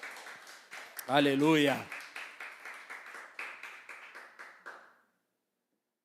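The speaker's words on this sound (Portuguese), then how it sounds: "Aplauda ao Senhor, glorificado seja o nome do Senhor" A church congregation claps hands in a steady rhythmic beat, about a dozen distinct claps fading out, while a voice calls out briefly over the clapping.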